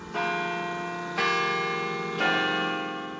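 A church bell at Carillon Park rings three slow, resonant strokes about a second apart, each one ringing on with a long, shimmering decay, clear and fairly close with no voices.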